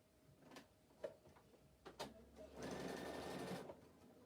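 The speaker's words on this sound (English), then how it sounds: "I'm going to stitch along the top of that" A sewing machine stitches two fabric pieces together along the top edge. A few quiet clicks and knocks come first, then a fairly faint, even mechanical whirr runs for about a second.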